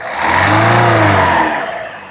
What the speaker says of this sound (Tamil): லைட்டாக ரேஸ் பண்ணுப்பா ரேஸ் பண்ணு